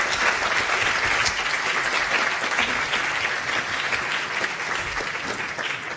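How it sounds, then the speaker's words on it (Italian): Sustained, dense applause from an audience at a film screening and debate, steady and fairly loud for the whole stretch with no one speaking. "sono certa che un nostro applauso gli farà molto piacere."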